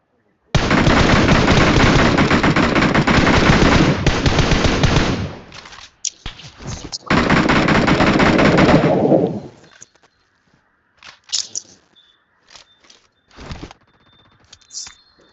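Gunfire in the BGMI mobile battle royale game, Ocean Odyssey mode: long loud bursts of rapid automatic fire, a pause, another burst, then scattered single shots and clicks.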